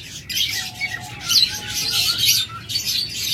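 A pair of olive opaline Fischer's lovebirds chirp in quick, shrill bursts with a few squawks. The calls are close and busy, with no voices.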